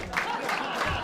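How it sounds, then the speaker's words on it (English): A comedy club audience claps in a brief, full burst of applause, dense and fairly close, with some crowd murmur in the mix. "Genuine applause."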